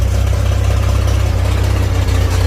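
A snow blower engine runs steadily at idle with a little throttle, a loud, continuous low mechanical drone that holds even throughout with no speech over it.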